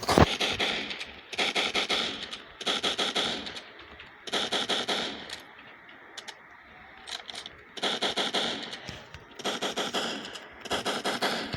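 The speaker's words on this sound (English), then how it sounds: "They gave me a shotgun that reloads in 2 seconds." Shotgun blasts in a zombie video game ring out in short bursts of rapid, loud gunfire separated by brief pauses, repeated across about a dozen seconds with no talking.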